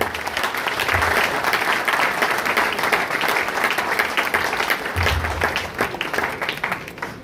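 Sustained applause from a large university audience welcoming a professor, dense and even clapping that holds steady at a loud, close level throughout.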